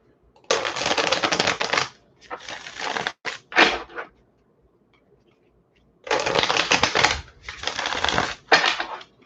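Tarot cards being shuffled by hand in a few bursts of dense riffling rustle, each lasting about a second or so, with a pause in the middle and no talking.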